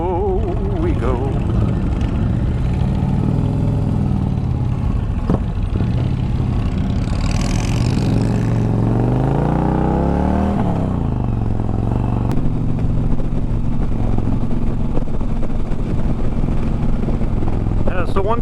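Steady, loud engine roar of a Challenger motorcycle on a group ride, a continuous throaty drone with wind rush and shifting pitch, with a rider's voice talking over it.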